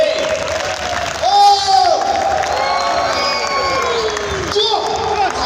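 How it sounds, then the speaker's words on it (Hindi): An audience at a company CEO's speech cheers and shouts at full volume, a dense, continuous wash of voices that swells briefly in places. "Tell me with your claps."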